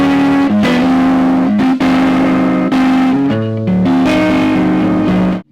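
An electric guitar played loud through a cranked tube amp, its distorted chords ringing out in sustained strums with brief gaps between changes, close and full, with no voices.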